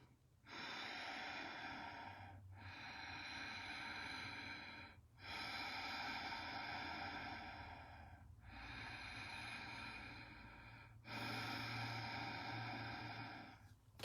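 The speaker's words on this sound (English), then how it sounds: "it's a deep breathing as if I was fogging up a window, but my mouth is closed." Deep yoga breaths drawn through the back of the throat with the mouth closed come as a slow series of long, soft, hissing ocean-like breaths with brief pauses between, faint and close.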